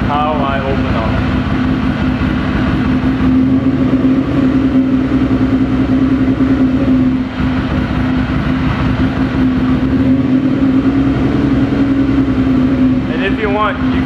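A car engine idles in neutral with a steady, loud drone, its revs rising briefly near the start and again near the end, while a voice talks over it throughout.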